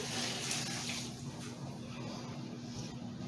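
Pickling liquid poured over cucumbers for sweet pickles, a soft continuous splashing pour that is loudest at first and then settles into a quieter trickle, close and faint.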